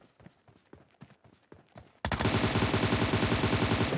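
Sustained automatic gunfire from PUBG Mobile bursts in loud and close halfway through, a rapid continuous volley following a couple of seconds of quieter in-game footsteps and movement.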